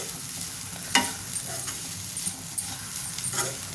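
A spatula stirs ivy gourd and coconut fry in a pan, Andhra style, with soft scraping strokes and a few sharper clacks over a steady low sizzle, close and fairly quiet.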